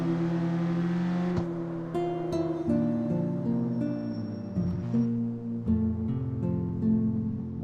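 A car engine in the street racing video game CarX Street drones loudly and continuously, its pitch stepping up and down through gear changes, with no talking.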